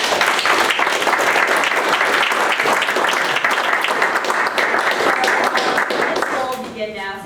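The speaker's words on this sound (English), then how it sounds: "let's give a round of applause" Sustained applause from an audience at a startup pitch event for angel and venture investors, dense steady clapping filling the room for about seven seconds before tapering off at the end.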